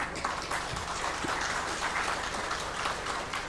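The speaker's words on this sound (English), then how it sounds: "let's welcome Mr. Sanjiv Bashin with a big round of applause" Steady round of audience applause welcoming a guest at an investor awareness meeting in a hotel hall in Imphal, moderately loud and continuous from start to finish.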